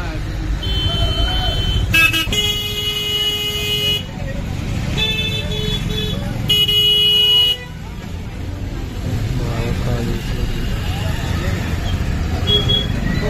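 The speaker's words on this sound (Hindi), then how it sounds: "तो भाई यहाँ लग गया ये ट्रैफिक।" Heavy road traffic jam in Ujjain, India, with repeated car horn toots and long honks sounding over a dense engine rumble, while people talk nearby.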